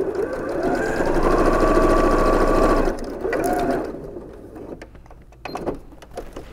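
A sewing machine stitching an apron hem whirs steadily and close for about three seconds, then a shorter burst follows before it fades to quiet handling sounds.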